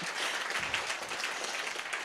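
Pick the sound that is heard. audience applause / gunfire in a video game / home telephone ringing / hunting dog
audience applause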